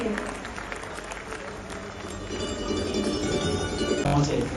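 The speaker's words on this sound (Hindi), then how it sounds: "जोरदार तालियां हो जाए एक बार प्रोफेसर एसपी सिंह बघेल के लिए" Audience applause at an award ceremony in India, a broad wash of clapping from a crowded hall that swells slightly toward the end, with a voice briefly audible underneath.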